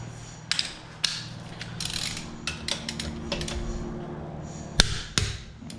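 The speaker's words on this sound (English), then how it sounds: "Get these torqued down." Wheel bolts on a BMW M3 F8x being torqued down with a wrench during a wheel spacer install, giving a run of sharp clicks and ratcheting knocks at close range over a quiet garage background.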